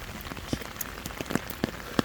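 Steady rain falling in Walsall Arboretum during a storm, a close hiss of drops on surfaces with scattered louder individual splashes, no talking.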